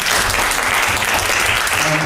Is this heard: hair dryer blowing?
no